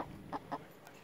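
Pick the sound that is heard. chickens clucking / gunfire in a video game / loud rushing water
chickens clucking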